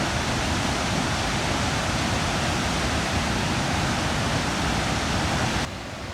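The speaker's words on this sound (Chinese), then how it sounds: "一早天气大好，我们来到很近的众神瀑布。" Goðafoss waterfall in Iceland thunders with a broad, unbroken roar of rushing river water, loud and close, dropping slightly in level right at the end.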